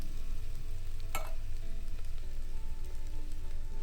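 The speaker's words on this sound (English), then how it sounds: "Now we're going to add this can of diced tomatoes." A can of diced tomatoes going into a hot beef stew pot, a steady close sizzle and crackle of frying with a brief wet splash, and no talking.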